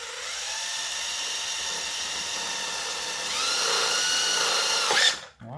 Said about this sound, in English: I now just drill some holes in the plastic.